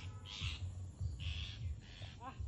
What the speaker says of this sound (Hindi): चीं चीं कर रहा है तोता